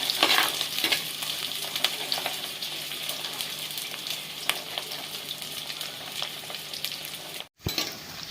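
Shallots and garlic sautéing in a pan for a village-style fish curry, a continuous close sizzle with scattered spoon stirs and scrapes and a brief cut near the end.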